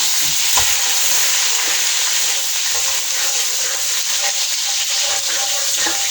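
Onions and whole spices such as bay leaves, black pepper and cloves fry in about a cup of oil, producing a loud, steady, close-up hiss and crackle that never lets up, with faint stirring underneath.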